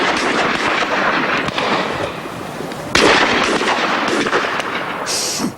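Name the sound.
gunfire shots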